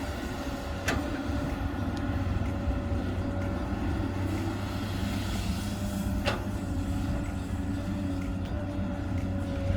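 A Komatsu PC200 excavator with a six-cylinder engine working at a land-digging site, its steady diesel drone and low hum constant throughout, with a couple of sharp metallic clanks.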